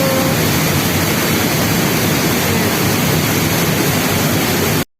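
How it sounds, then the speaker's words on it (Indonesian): Roar of a waterfall at a fishing spot, a loud, steady broadband rush of falling water heard up close that fills the whole clip and then cuts off abruptly. "makanya ini kita pindah di bagian air terjun"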